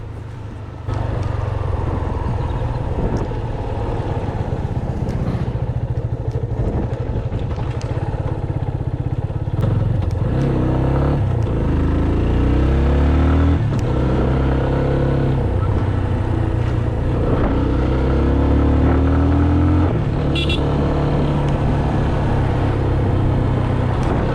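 A Yamaha FZ25 250cc motorcycle engine drones steadily at 80 to 100 km/h cruising speed on a highway, with heavy wind rush, the rumble rising and falling slightly as it rides on.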